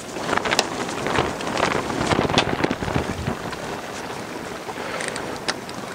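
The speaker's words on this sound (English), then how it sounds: "It's ever so windy today, and the wind is bitter." Strong, bitter gusty wind buffeting the microphone at a carp fishery, a constant roaring rush with louder blasts, close and harsh throughout.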